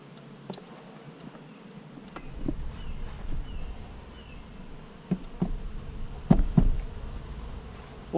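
Honeybees buzz inside a full Georgia hive, a low steady hum rising after a couple of seconds, close, with scattered clicks and taps over it.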